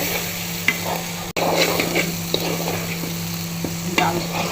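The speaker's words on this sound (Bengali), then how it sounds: "ডাল ভাজা ভাজা করতেছি" Soaked lentils (dal) fry in a pan, a continuous close sizzle with a low steady hum beneath and occasional light scrapes and taps of stirring, no voices.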